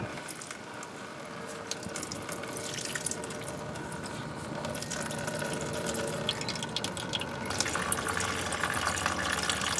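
Coolant drains from the radiator drain spout of a Jeep Grand Cherokee, a faint continuous trickle and drip that runs steadily with no voices over it.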